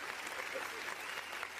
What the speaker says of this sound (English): Look at that applause there.